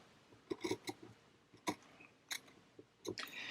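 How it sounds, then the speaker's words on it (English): Scissors trim loose fabric around a vintage book cover in quick, quiet snips, about eight crisp cuts spaced unevenly, heard up close with no talking. "I leave about maybe 1/4 of an inch loose, and then I'm going to trim this off."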